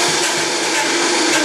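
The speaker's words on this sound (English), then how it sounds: "I'm actually going to use a tamper while the blender is on, just to make sure that everything stays on the blade." A blender running on high speed, mixing raw chocolate, makes a loud, steady whir that holds at the same level throughout, with no talk over it.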